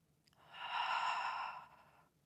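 A long, steady inhale during a beginner Pilates back workout, a soft airy breath rising and fading over about two seconds, close and fairly quiet.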